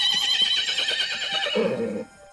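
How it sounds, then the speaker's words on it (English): A horse neighs loudly and close, one long quavering whinny that drops into a lower snort before cutting off. "We know it as the horse."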